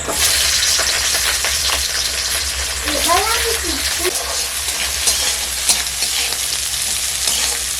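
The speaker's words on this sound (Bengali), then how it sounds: "এবার ক্যাপসিকাম ভেজে নেব।" Capsicum frying in hot oil in a wok, a loud, steady, close sizzle with crackling that runs the whole time, with a short tonal sound briefly rising over it near the middle.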